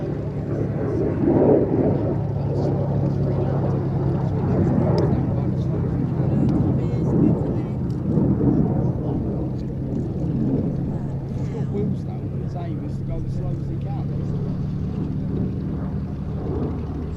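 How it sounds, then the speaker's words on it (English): An F-35A fighter jet making a low approach to the runway at an airshow, a steady broad engine roar under continuous commentary, with wind buffeting the microphone. "This is the A model of the F-35, which is the conventional takeoff and landing."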